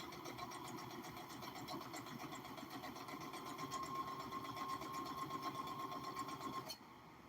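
A sewing machine stitches the hem of a circle skirt, running with a steady rapid mechanical whir and rattle for several seconds before stopping abruptly near the end.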